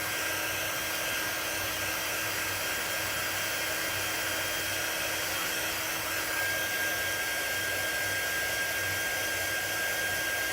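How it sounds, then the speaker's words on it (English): A quick dry tool blows air over drying paste with a steady, continuous hiss, close and unbroken for the full stretch, and no voices. "But you can speed it up by using this quick dry tool."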